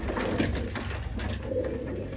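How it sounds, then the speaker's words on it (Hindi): Pigeons kept by a pigeon fancier cooing softly over a steady background, with low repeated coos at close range and some faint rustling. "और दिखाता हूँ ये दो कबूतर आपको जो मेरी पसंद के हैं"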